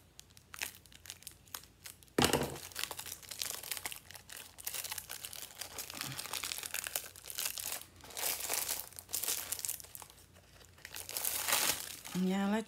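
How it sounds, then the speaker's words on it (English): Scissors snip through crinkly plastic packaging, with rustling and tearing sounds mixed in, while a person talks nearby. "we are going to use the scissors on it."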